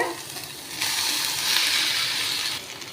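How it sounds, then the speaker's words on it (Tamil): Onions and tomatoes sauté in a pan for chutney, a soft hiss that swells into a brighter, louder sizzle midway before easing off, heard close with no speech. "தக்காளி வெங்காயம் நல்லா வர வரைக்கும் நல்லா வதக்கி விட்டுக்கோங்க"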